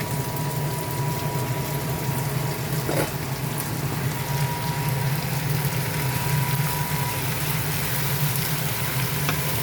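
Pork innards such as intestines fry for paklay, a steady loud sizzle and crackle in oil that runs evenly throughout without speech.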